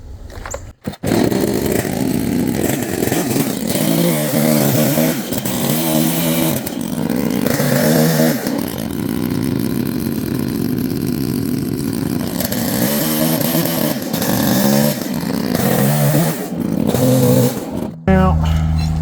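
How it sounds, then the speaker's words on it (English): A smaller chainsaw trims the corners off a wooden log bowl blank, its loud engine buzzing steadily with rising and falling revs as it bites through the wood, close by and continuous for most of the clip. "We'll get a little bit of a smaller saw to cut these corners off."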